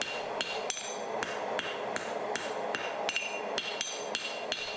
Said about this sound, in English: Using the step or table on the anvil can help keep the billet steady when hammering the edges.